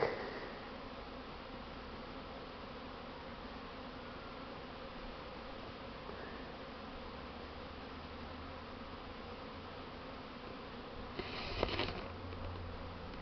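A steady swarm of honeybees buzzes around hives early in the season as they gather hazel pollen, a continuous close drone that stays even throughout, with a brief brighter rustle near the end.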